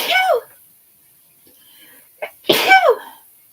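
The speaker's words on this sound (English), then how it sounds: "Here we go with another sneeze." A person sneezes twice, a sharp close burst, a pause, then a quick inhale and a louder second sneeze.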